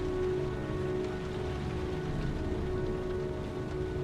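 Steady, dense rainfall patters on surfaces in the video game Heavy Rain, a continuous even hiss without pauses or voices.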